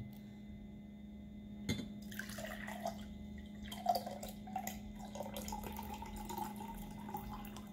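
Water poured from a glass fills a small tank for a DIY tank level monitor, producing a quiet trickle and scattered drips over a steady low electrical hum.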